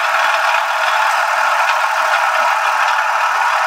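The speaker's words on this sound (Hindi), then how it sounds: "अभी गाड़ी स्टार्ट करके देखें साउंड कितनी है जो वीडियो में आ जाए।" A car engine running steadily with a faulty noise, a continuous loud mechanical whir and rattle with no talking over it, suggesting worn bearings in the timing system.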